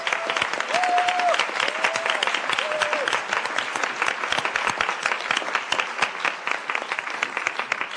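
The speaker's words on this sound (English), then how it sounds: "please join me in an unbelievable round of applause for this dancing, wonderful, soulful music" Audience applause at a special international event after a performance, sustained crowd clapping for several seconds, with a few faint tonal sounds near the start.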